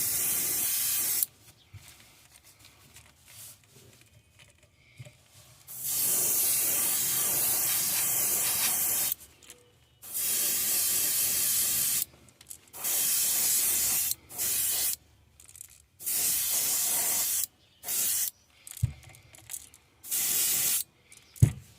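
White paint sprayed over a pumpkin seed pattern in long, loud hissing bursts of several seconds each, separated by short quiet pauses, with no talking.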